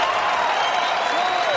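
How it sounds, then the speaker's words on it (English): A large crowd applauds and cheers at a college wrestling dual meet in Lincoln, a steady, dense wash of clapping and crowd noise filling the arena for the whole moment. "Great crowd, phenomenal atmosphere."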